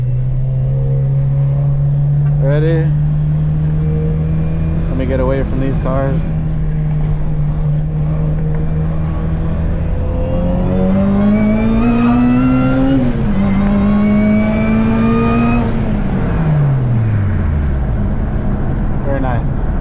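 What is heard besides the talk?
supercharged Acura RSX engine revving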